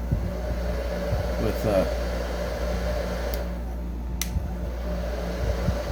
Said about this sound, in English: working on my new technique of melting crayons using a heat gun